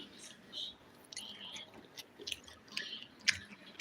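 Soft, close chewing of home-style fried chicken with rice and coconut chutney: quiet, irregular moist bites and faint crunches spread over a few seconds, with no talking.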